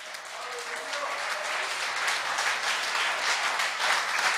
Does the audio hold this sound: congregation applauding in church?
yes